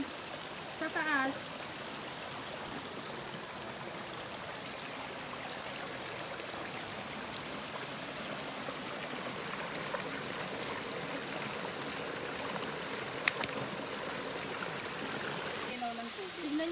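Clear mountain stream high on a hillside in Hong Kong, a steady broadband rush of flowing water lasting throughout, with a few brief faint voices and scuffs near the start and end.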